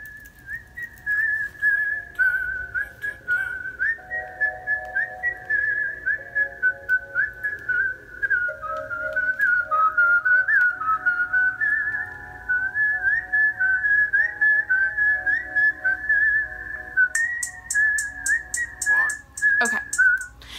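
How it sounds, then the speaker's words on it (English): A melodic tune whistled clearly and steadily for about twenty seconds over a soft instrumental backing, with a brief flurry of brighter notes near the end. "So that's basically the whistling part to the song."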